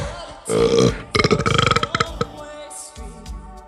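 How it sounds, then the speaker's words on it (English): A man lets out a long, loud, close burp right into a microphone, starting with a drawn-out rumble and breaking into a fast rattling string of pulses, followed by a shorter second burp. "This mic really gets the burps."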